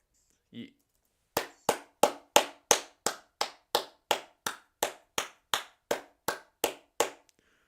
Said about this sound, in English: clapping for Andre Russell, who joins Powell in the middle